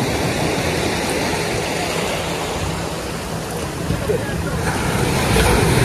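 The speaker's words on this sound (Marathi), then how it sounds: "लाटा खूप मोठ्या आहेत" Steady roar of surf and crashing waves at a fish-landing shore in Malvan, filling the whole clip, with wind and a low engine-like rumble beneath from a boat, growing slightly louder toward the end.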